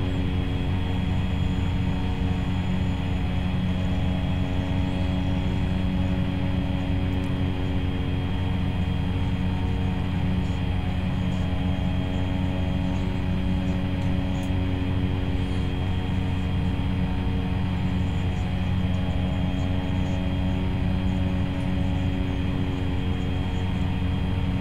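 Cessna C208B turboprop in X-Plane 11, a steady droning engine hum with layered tonal whine, constant and even in level for the whole stretch, with no voices.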